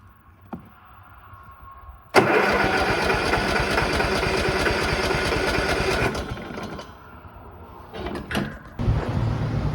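A Cub Cadet engine with the choke on catches after a pull and runs loudly, close by, for about four seconds, then drops away, followed by a few clunks and another brief sputter.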